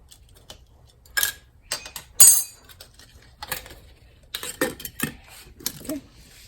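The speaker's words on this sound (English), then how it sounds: "So next step, I put like half teaspoon of sugar." A metal teaspoon adds sugar while Egyptian-style Arabic coffee is prepared, giving scattered light clinks and scrapes in a quiet kitchen, a few sharper taps standing out between softer rustles.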